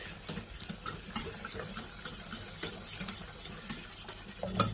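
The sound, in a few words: whisking flour and milk sauce in a pan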